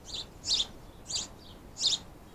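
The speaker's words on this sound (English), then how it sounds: "so noisy, that bird." A bird calls outside near a house garden, giving four bright, sharp chirps at a steady, evenly spaced rhythm, fairly faint against a quiet background.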